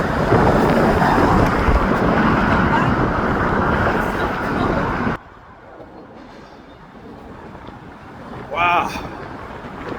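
Strong wind buffets a microphone outdoors in San Francisco, giving a loud, rough rumble for about five seconds. It then cuts off abruptly to a quieter outdoor background, with a short whistling swell near the end.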